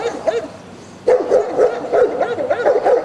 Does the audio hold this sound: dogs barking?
yes